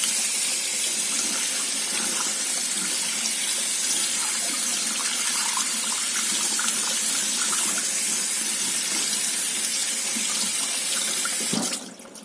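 A motorcycle air filter is rinsed under a steady stream of running tap water, a loud continuous gushing splash that is cut off abruptly near the end.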